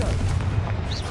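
In the Hogwarts Legacy video game, a Confringo blasting spell goes off as a short, punchy burst of deep booming rumble, loud and close, with a brief whooshing tail and no talking.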